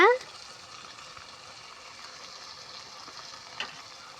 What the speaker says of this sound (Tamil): தக்காளி நல்லா வணங்கட்டும் நல்லா வணக்கி விட்டுக்கோங்க